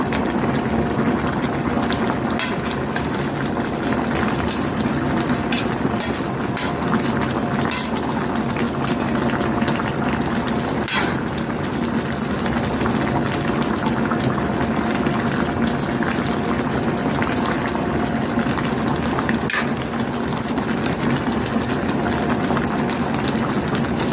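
Ginataang tilapia with eggplant simmering in coconut milk, a steady bubbling boil with faint clinks of utensils running continuously throughout.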